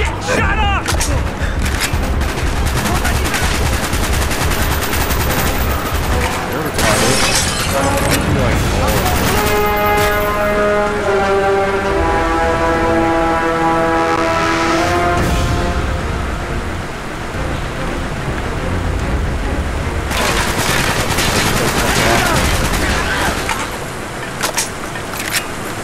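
Gunfire during a Call of Duty: Black Ops campaign firefight: dense, continuous volleys and explosions rumbling throughout, loud and close, with a musical score swelling in the middle.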